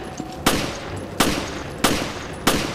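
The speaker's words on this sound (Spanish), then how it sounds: "Disparo de advertencia." Gunfire in the video game Resident Evil Revelations: four loud, sharp shots fire at an even pace about two-thirds of a second apart, each a sudden crack followed by a short ringing tail over low background ambience.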